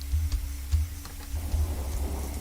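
Rain with rolling thunder from a meditation soundtrack, a steady low rumble with a few swells under continuous soft rainfall, no voices.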